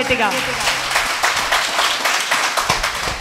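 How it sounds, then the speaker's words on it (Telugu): A church congregation claps hard in a quick, steady rhythm of dense, overlapping hand claps, with voices mixed in beneath. "చప్పట్లు కొట్టండి గట్టిగా."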